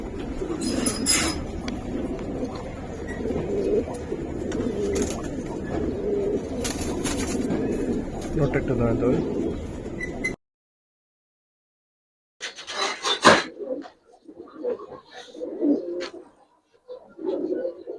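Pigeons coo among a flock of Giribaz pigeons at a seller's, low repeated coos over background bustle and occasional clinks, broken by a short silence, with people talking nearby.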